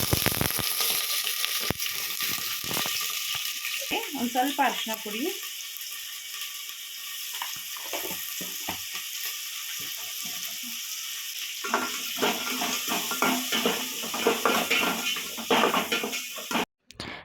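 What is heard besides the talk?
mutton bones frying in hot oil for tempering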